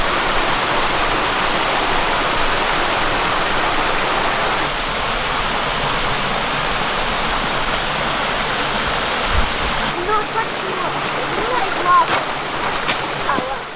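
A small waterfall pours steadily into a deep rock pool on a bush creek, giving a loud, continuous rushing wash close by, with voices faintly present.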